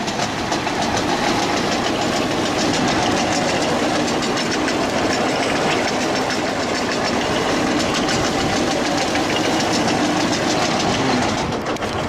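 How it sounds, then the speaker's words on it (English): Loud, steady engine drone with a rhythmic rattling clank running throughout, like a lawn mower running rough nearby, with no pauses. "Okay, so the mower was a little bit noisy."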